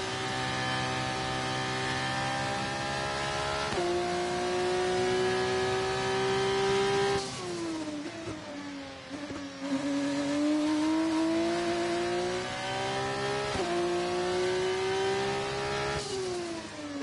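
A race car engine in a racing video game, running on hard tyres after a pit stop, revving with a steady high whine that dips and climbs through gear changes, loud and continuous.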